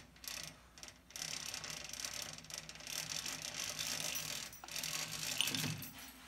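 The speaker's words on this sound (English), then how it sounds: "So to get this off, we're just going to lower the quill." The quill of a cylinder boring machine is lowered during a bore-and-hone job on a Suzuki GT750 Water Buffalo engine, giving a close, rattling mechanical ratchet-like clicking and whirring that continues for several seconds.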